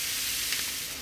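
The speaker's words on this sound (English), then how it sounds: "get the naked flame and just give them a little bit of crisping on a naked flame" Chicken kebabs crisp over the naked flame of a gas cooker, giving a steady, soft broadband sizzle and hiss that runs evenly for about a second with no voices.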